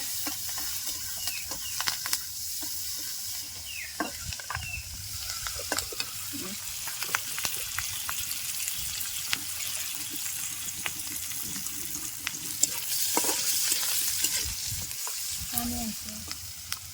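Onion and green chili fry with a continuous low sizzle while a spatula scrapes and clicks irregularly against the pan, up close, with a brief watery swell near the end.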